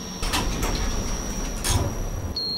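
An elevator door slides open in the Roblox video game, a short mechanical whoosh with a couple of brief bursts and a faint steady electronic hum behind it.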